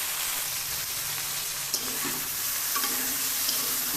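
Small mola fish frying in oil in a pan, a steady dense hiss of sizzling oil throughout with a few faint clicks from a spatula, close and continuous with no speech.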